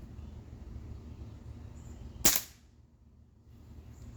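A Crosman 2260 air rifle fitted with a Leepers 4x32 AO scope fires one sharp, loud shot at a cardboard target, standing out from a steady low background hum with a brief fading tail.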